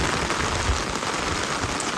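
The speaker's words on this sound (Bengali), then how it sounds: "খুবই সুন্দর বৃষ্টি, অস্থির বৃষ্টি নামছে।" Heavy rain pours down in a Bangladeshi village, a dense, even hiss of drops hitting surfaces close by, loud and continuous with no voices.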